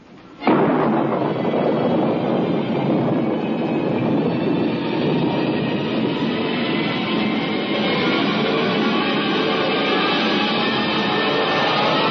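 A rocket blast-off sound effect from the X Minus One radio drama erupts suddenly into a loud, dense roar that holds steady and unbroken, with no voices over it.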